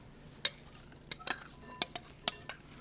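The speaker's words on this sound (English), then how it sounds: "We're going to mix in our raspberries into here." Raspberries are mixed into sliced peaches in a bowl, with a utensil giving sparse light clinks and soft taps against the bowl, close but quiet, without talk.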